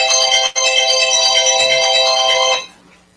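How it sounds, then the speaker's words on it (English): A phone ringtone plays loudly in a quiet room, a bright, steady electronic melody with a brief break near the start, then cut off abruptly after about two and a half seconds. "my phone rang as we were talking"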